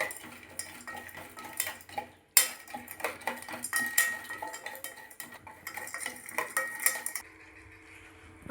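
A spoon clinks and scrapes against a metal pot as jaggery is stirred and dissolved in water, in close, irregular bursts that stop abruptly near the end.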